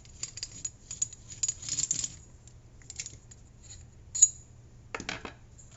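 Metallic clinks and small scraping ticks of a screw being worked loose from the buffer tube of a VFC airsoft gearbox, close and quiet, in irregular bursts with a sharper clatter near the end.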